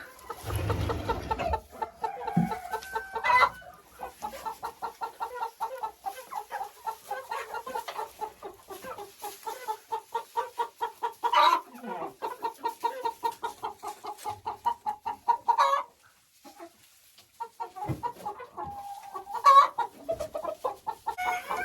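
Hens in a chicken coop clucking steadily in rapid repeated bursts, close and clear, with a louder squawk near the start and a few sharper calls later.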